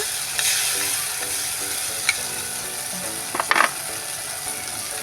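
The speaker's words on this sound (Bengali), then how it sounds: "ভালো করে এটা ভেজে নেবো আমি আগে আমার মশলাটা এটা কষা হয়ে গেছে" Masala paste of ground poppy seed and nut for an okra curry fries in a pan, a soft continuous sizzle broken by a few scraping, clattering stirs from a spatula.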